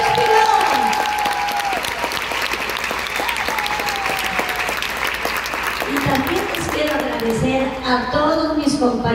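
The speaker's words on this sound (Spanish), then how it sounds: "Quiero que le demos un fuerte aplauso a Chespirito" An audience applauds loudly and continuously for Chespirito, dense clapping filling the space while a voice speaks in Spanish over it near the start.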